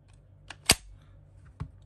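A GHK G5 gas blowback airsoft rifle fires a few sharp, snappy shots at uneven intervals, with one loud crack standing out over a quiet background.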